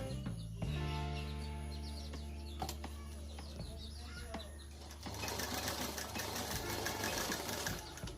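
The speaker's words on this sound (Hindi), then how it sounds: "और दोस्तों सिलाई पे ही सिलाई चलाना है हमें स्ट्रेट।" A sewing machine stitches double piping in a steady mechanical whir, close by, joined by louder rattling stitching toward the end, with some background noise.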